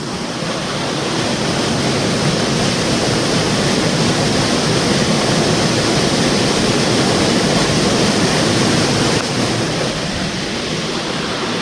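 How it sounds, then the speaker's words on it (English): Water rushes down a stepped concrete runoff outfall in open countryside, a loud, steady, close roar of churning flow that holds unbroken for the whole stretch with no voices. "The staircase is to slow the water down rather than all just come flying out."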